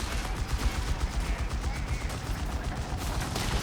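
Machine gun fire in the real-time strategy game Company of Heroes 3, a dense continuous rattle of bursts blended with battle noise, steady and fairly loud throughout.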